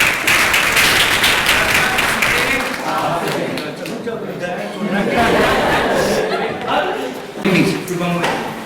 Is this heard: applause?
yes